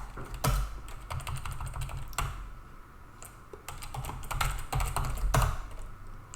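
Code being typed on a computer keyboard, with steady runs of key clicks and a few louder thumps, close and clear, with no voices.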